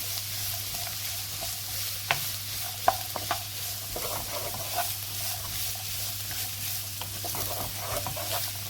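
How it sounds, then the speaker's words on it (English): Celery, carrots and onion sizzling in a pan while a utensil stirs them, a steady bright fry hiss broken by scattered scrapes and a few sharp clicks, close and moderately loud, with no talking. "I'm going to add the celery, the carrots and my onion, and we're going to cook them"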